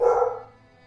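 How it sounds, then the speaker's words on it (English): A single short dog bark, fairly close and loud, that fades out quickly. "They're probably barking at nothing."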